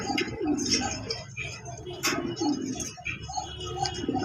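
Fancy pigeons at a large loft coo repeatedly in low, throaty bursts close by, with some faint ticking and a little background voice mixed in.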